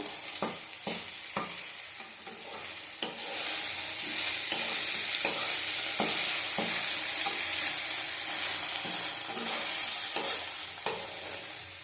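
Food lightly frying in a pan, a steady broadband sizzle rising and thickening midway, with repeated sharp clinks and scrapes of a spatula stirring throughout, close and fairly loud, no voices.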